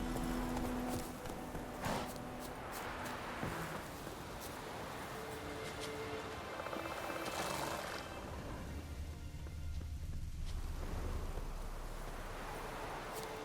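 Horse hooves clip-clop at a steady gait in The Witcher 3, repeating evenly and fairly close over a continuous ambient bed of wind and rustle, with a brief whinny-like note and no talking.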